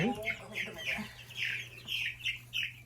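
Light Brahma chicks, kept indoors in cold weather, clucking and peeping in a rhythmic run of short, closely spaced calls over a steady low hum, with a bit of speech at the start.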